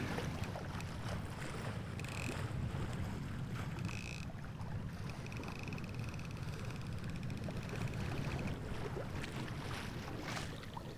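Steady wind rushes over open water while sailing at night in Indonesia, with a low continuous rumble, while faint intermittent tones and creaks come and go in the background.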